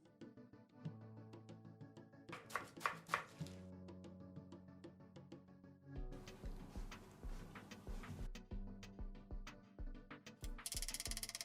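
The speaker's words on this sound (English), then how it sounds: "Wash and finely chop the lettuce leaves." A knife chops finely through lettuce leaves on a board, quick rhythmic taps in bursts with short pauses, close but fairly quiet.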